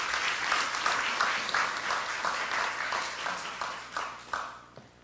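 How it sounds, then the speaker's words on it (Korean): An audience at a Korean welfare policy forum applauds as a National Assembly member is introduced, dense clapping that is steady at first and then thins into a few final claps as it dies away. "박수 부탁드리겠습니다."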